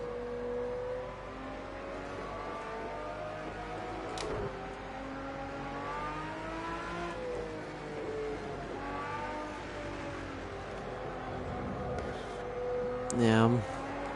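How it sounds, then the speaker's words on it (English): A car engine revs up and down in rising and falling sweeps during a late-night drive, heard from inside the car at moderate level, with a sharper burst of revving near the end. "banging on the revs"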